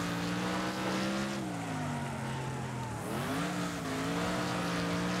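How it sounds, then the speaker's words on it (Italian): A loud race car engine roars continuously in Wreckfest, its pitch rising and falling through gear changes, with a sharp dip and recovery midway and a faint tyre squeal. "Che macello fa sta macchina"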